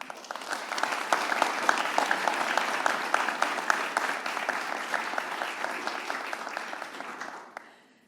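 An audience at the 2021 Seal of Excelencia event gives sustained applause, dense, even clapping for about seven seconds before fading quickly to silence.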